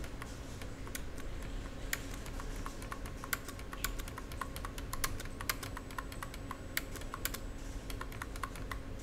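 Typing on a computer keyboard, a steady run of quick clicking keystrokes with occasional louder taps, close and alone over a low background hum.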